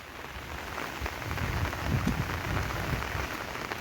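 Steady monsoon rain pattering on a surface near a bridge over the Bhogeshwari river in Konkan, a dense continuous hiss with scattered drops, swelling slightly in the middle, no voices.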